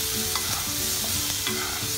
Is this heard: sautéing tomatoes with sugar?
yes